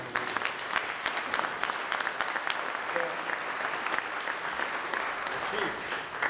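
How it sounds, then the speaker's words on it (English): A ceremony audience at a firefighter recruit class swearing-in gives the chief a sustained round of applause, many hands clapping in a dense patter with scattered louder claps and faint voices murmuring underneath. "let's give him a round of applause"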